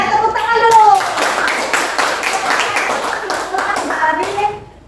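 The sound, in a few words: class clapping hands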